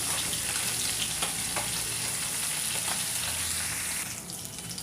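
Ground cumin, turmeric and chili powder frying with ginger-cumin paste in a pan, a continuous close sizzle with occasional scraping stirs, the frying quieting slightly near the end.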